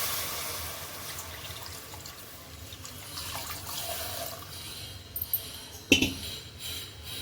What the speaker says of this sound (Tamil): இதே கிளாஸால் 3 கிளாஸ் தண்ணி ஊற்றிக்கிறேன். தேங்காய் பால் தண்ணி, தேங்காய் பால் ஆட் பண்ணுறேன்.